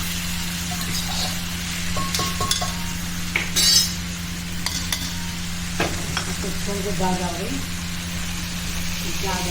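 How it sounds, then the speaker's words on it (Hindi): Masala frying in a pan for boro ki sabji, a steady soft sizzle with spoon stirring and occasional metal clinks, under faint background talk. "तो अभी भून गया ना मसाले की चीज़ कितनी अच्छी आ रही है।"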